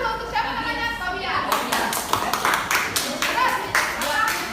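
A classroom of students claps for a classmate, a burst of uneven, fairly close hand claps that starts after a moment of voices and continues briskly to the end.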